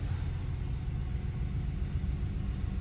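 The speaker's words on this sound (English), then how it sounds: "It sounds pretty smooth already. Yeah, I think this thing idles at like 550 or 575." A V8 Chevrolet Colorado engine idles low and steady at close range, a smooth continuous rumble with no pauses and no voices over it.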